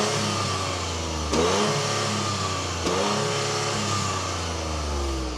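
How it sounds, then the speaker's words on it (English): A 2025 Toyota GR Yaris facelift's exhaust, recorded up close, rumbles at idle and then snaps through two sharp revs, each rising quickly and falling back to a steady idle. "this is how the exhaust sounds"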